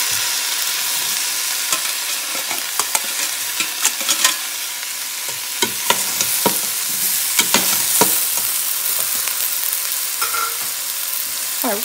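Potatoes stirred into a pot of New England clam chowder on the stove, a steady loud hiss and bubbling with scattered spoon clinks and scrapes against the pot throughout.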